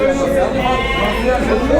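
Sheep bleat amid the bustle of a busy livestock market selling sacrificial animals, with dense overlapping chatter and voices nearby throughout.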